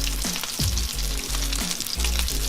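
Dried galunggong fish sizzle and crackle in a hot pan of oil, a steady close frying hiss with occasional stirring scrapes, no talking.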